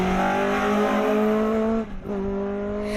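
A Mark II rally car on a special stage of the Manx National Rally holds a loud, steady engine drone close by, with a brief dip in revs as it shifts or lifts before pulling hard again.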